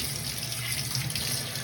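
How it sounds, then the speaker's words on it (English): Tap water runs steadily into a sink while a part of a Breville Touch espresso machine is rinsed, a continuous close, soft hiss with no voices. "I usually rinse it so you can see some of the water coming out of these areas here"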